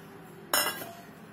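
Chopped onion tips into a bowl with a single short clink of a utensil against the bowl's rim, close but quiet, trailing off quickly.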